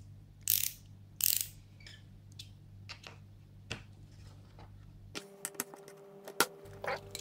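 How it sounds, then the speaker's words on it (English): A Skil ratcheting screwdriver from a 30-piece Bosch set, giving quiet, scattered mechanical clicks and a couple of louder rustling bursts, close by in a quiet room. "In the middle, it is like a regular screwdriver."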